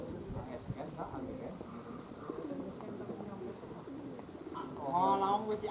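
Racing pigeons at a training session for a young pigeon-racing team coo softly and steadily under continuous nearby talk, with a louder burst of calls toward the end.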